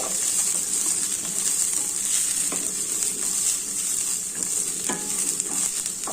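Grated coconut and green chillies frying in oil in a pan, a continuous bright sizzle with occasional soft stirring scrapes, close and steady with no speech.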